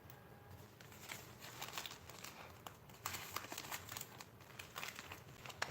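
Instant Pot planner stickers being handled, giving a soft, continuous papery crinkling and rustling with small crackles and taps throughout, close by and fairly quiet.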